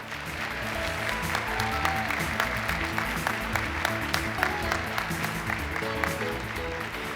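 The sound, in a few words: audience applause for accomplished photographers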